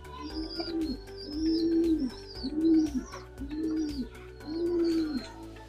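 A sick homing pigeon coos close by in five evenly spaced, throaty rolling calls, with no talking.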